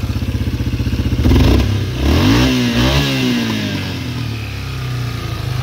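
A Yamaha Wolverine ATV engine running on a swapped-in Yamaha Warrior carburetor idles with a close, throbbing putter, briefly revs up and back down, then settles into a steady idle.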